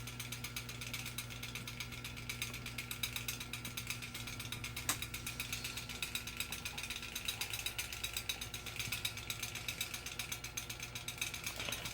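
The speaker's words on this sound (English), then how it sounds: "that rattling is the center badge" Steady rattling and mechanical clicking from the loose center badge of a Kemco Koldaire 2-201 fan, continuous over a low motor hum throughout, fairly quiet with no voices.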